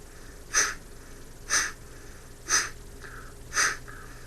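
Breath of fire yogic breathing, four sharp forceful nasal exhalations spaced about a second apart, close and clear against a quiet room.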